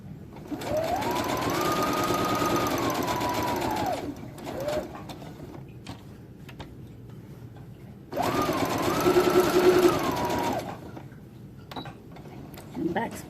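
A sewing machine stitching a fabric face mask runs in two steady bursts of several seconds each with a pause between them, close and clear, with a light whirring drone and a brief reverse stitch to lock the seam.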